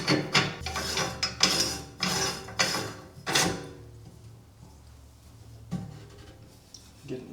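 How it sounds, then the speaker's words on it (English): A big locking nut is threaded onto a #32 meat grinder, several close rasping, rubbing turns of metal on metal in quick bursts, followed by a quieter pause and a final scrape. "you're going to take your big locking nut and you're going to just thread it right on there to hold everything in place"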